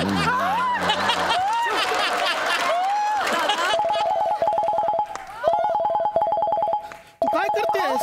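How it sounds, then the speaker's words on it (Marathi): A telephone rings with a steady, repeating electronic ringtone, loud and close, after a stretch of people laughing and chattering together. "भाऊजींचा फोन आला"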